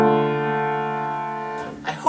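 A ii chord, heard as a retrogression in a harmonic progression, is struck and sustained for about a second and a half before fading, then a voice begins speaking over its tail.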